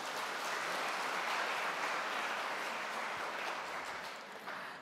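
Steady applause from the congregation at an HKBP Easter church service fills the whole stretch at an even, sustained level, with no voices over it and the clapping thinning slightly toward the end.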